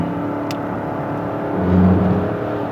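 Steady car engine hum and road noise from inside a moving vehicle, swelling briefly as it accelerates, with no talk over it.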